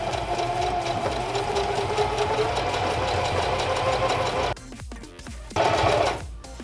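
A sewing machine stitching fabric pieces together for steel armor, a loud close continuous mechanical whir with a rapid chattering rhythm, briefly dropping off near the end before it runs again.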